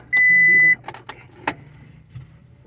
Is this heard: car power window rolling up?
yes